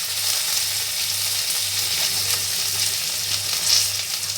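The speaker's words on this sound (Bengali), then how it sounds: "এবার আমি বেশ খানিকটা কালো জিরে দিয়ে দিলাম" Nigella seeds, dried chilli and garlic frying in oil: a dense, even hiss of sizzling oil close by, steady throughout with a low hum underneath and no voices.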